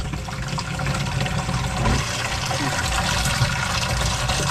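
Steady, forceful rush of water from an underground well gushing continuously at close range, a full broadband flow with no pauses.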